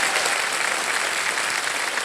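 Steady, dense applause from a studio audience on the Hindi quiz show KBC, filling the whole stretch at an even level with no break.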